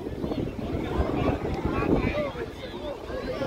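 A speedboat engine drones on open sea off Playa Rodadero, Santa Marta, Colombia, with wind buffeting the microphone and splashing waves throughout.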